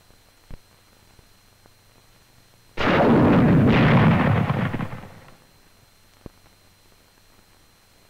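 An M6 bazooka anti-tank rocket fires in one loud, roaring blast lasting about two seconds, then fades away, with quiet before and after.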